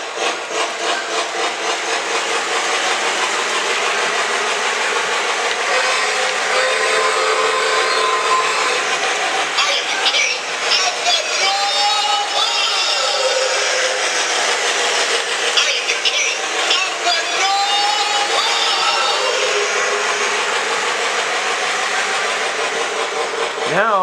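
Model Christmas trains run steadily on a layout track in a holiday village display, a continuous close mechanical whir and rumble under occasional faint tones, unbroken for the whole stretch.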